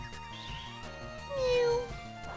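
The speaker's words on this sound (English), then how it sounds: "Mew's name is literally the sound of a cat." A Pokémon creature's short cat-like cry, a gliding mew, rises over looping chiptune game music in a Pokémon video game.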